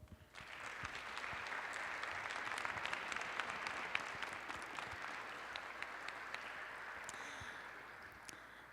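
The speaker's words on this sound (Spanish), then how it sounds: "Les damos 2 aplausos." Audience applause following a speech at a book presentation on economic interaction and trade policy, steady moderately loud clapping from a seated crowd lasting several seconds before fading.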